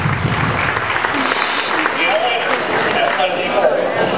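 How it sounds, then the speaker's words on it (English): Crowd applause for a diver at an aquarium dive show, a few seconds of diffuse clapping mixed with talking and background chatter. "Let's give him a big round of applause."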